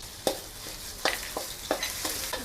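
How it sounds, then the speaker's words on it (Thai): Curry paste and shrimp paste stir-fried in hot oil for a spicy fish stir-fry, giving a steady sizzle broken by about six sharp spatula scrapes against the pan, close up with no talking. "หลังจากนั้นก็จะเอาพริกแกงกับกะปิ ลงไปผัดให้หอม"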